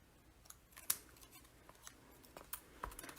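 A scrap of silver cardstock is trimmed away from a die-cut skate blade with scissors, making a few crisp, close snips spread over a few seconds in a quiet room.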